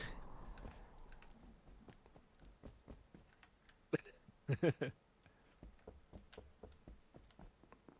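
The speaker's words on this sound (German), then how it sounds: "es gibt nichts Geiles als das Tippen vom Misaki hören" Sparse computer keyboard typing heard faintly over voice chat during an Among Us session, scattered individual key taps with a brief louder flurry of clacks near the middle.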